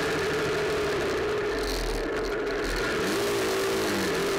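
A car accelerates on a dusty rural road near San José de Sisa, Peru, with a steady engine drone that rises in pitch toward the end and a low rumble underneath, heard from close by and without talking.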